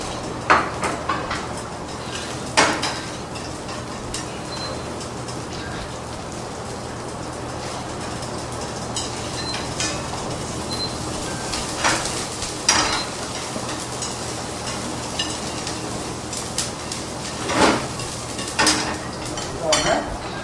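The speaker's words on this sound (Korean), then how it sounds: "그래서 저희가 양파를 먼저 넣어가지고 양파를 좀 넣습니다" Chopped onion dropped into a pan of sizzling garlic for a sautéed pasta, giving a continuous rain-like crackle of frying with occasional metallic clanks of utensils on the pan; a voice is faintly present at times.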